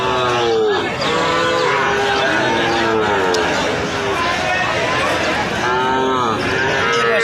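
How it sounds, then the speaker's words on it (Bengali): Young bull calves low repeatedly at a busy cattle market, overlapping moos rising and falling throughout, loud and close amid crowd chatter and people talking. "লো কোয়ালিটির ষাঁড় বাচ্চাগুলো কিন্তু আমাদের আজকে আছে হাটে।"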